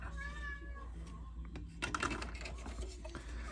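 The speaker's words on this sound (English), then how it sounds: "we got a crying cat below me here" A cat cries with a few drawn-out, wavering meows that come through faintly amid a low background hum and scattered clicks and taps nearby.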